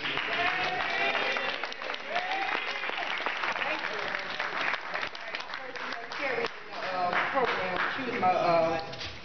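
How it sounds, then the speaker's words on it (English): Applause at a dinner event, a room full of guests clapping steadily with cheers and voices woven through, swelling again near the end. "give a big round of applause for Elise Cleveland"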